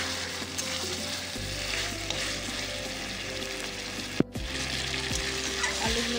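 Chicken frying in a pan with potatoes newly added gives a steady, close sizzle throughout, with scraping stirs and a sharp clack partway through; no one speaks.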